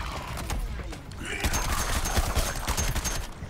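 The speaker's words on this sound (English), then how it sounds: "Wait to reload and then I'll shoot you." Gunshots in the Suicide Squad: Kill the Justice League video game, a dense, rapid crackle of overlapping shots over a steady background rumble, close and fairly loud.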